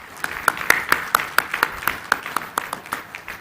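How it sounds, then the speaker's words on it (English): Rhythmic applause at a university convocation ceremony in a hall, claps landing in a steady synchronized beat about four per second, with one clear clap pattern standing out over a softer crowd. "Can we have a big round of applause,"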